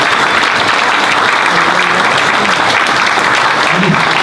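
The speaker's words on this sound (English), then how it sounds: "let's have another round of applause" A loud, steady round of applause from a room full of people at a Science on Tap talk, continuous and even, with faint voices underneath.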